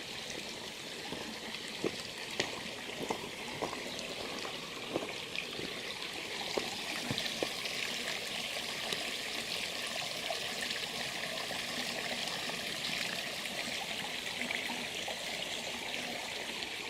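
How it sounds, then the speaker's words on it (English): Mountain stream at the Robinson River headwaters where a bridle trail crosses, around 3380 feet elevation in Shenandoah forest; a steady, close rushing flow with bright splashy trickles and faint dripping clicks, no voices. "here's where the Bridle Trail crosses the headwaters of the Robinson River."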